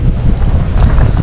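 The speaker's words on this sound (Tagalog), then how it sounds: "Napakalakas ng hangin." Strong gusting wind buffeting the microphone outdoors while preparing pigeons for a derby race, a loud low rumble filling the whole moment.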